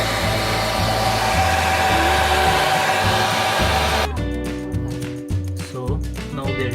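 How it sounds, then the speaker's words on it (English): A hair dryer blows at full power to melt ice inside a Samsung American-style fridge freezer, a loud steady whir for about four seconds before it cuts off and leaves an uneven mechanical hum. "Now I will remove this ice with this hair dryer."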